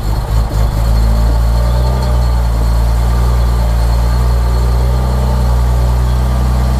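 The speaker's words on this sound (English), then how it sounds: "Start the engine. It will be lumpy to start with as the cams are not in the correct initial position." A BMW S50B32 engine, just refitted with VANOS and diaphragm springs, catches and settles into a loud, rough, lumpy idle with a deep, steady rumble throughout.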